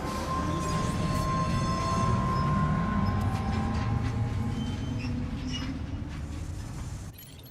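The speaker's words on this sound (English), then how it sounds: "The monorail bound for West Fort Knott will be sent on its way." Monorail train in the video game Death Stranding 2 pulling away on departure, a steady loud rumble with a thin high whine above it, fading slightly toward the end.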